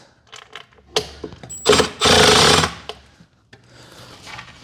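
A power drill whirs in a short burst, whining as it drives a 1-inch screw into a wooden drawer front, with handling clatter before and after.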